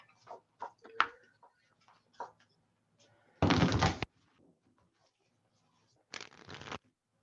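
Tarot cards are shuffled in two short, brisk riffling bursts several seconds apart, with soft clicks and light handling noises in the quiet between them.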